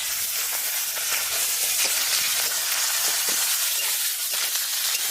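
Okra sizzling steadily in hot oil with black cumin, chopped garlic and green chilli, a dense, even frying hiss close up that runs unbroken throughout with faint stirring clicks.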